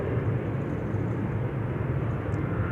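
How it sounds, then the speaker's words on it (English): Short, steady burst of jet roar from a KLM Embraer taking off at Schiphol for Frankfurt, fairly loud and unbroken, with no talking. "And the Embraer in the foreground taking off to Frankfurt, KLM flight 1819."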